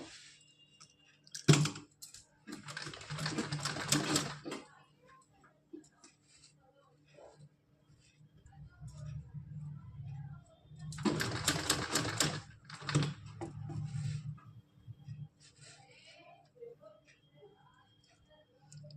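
A sewing machine stitches a small doll's frock in two short, close bursts of rapid mechanical clatter separated by quiet handling, with someone speaking softly between runs.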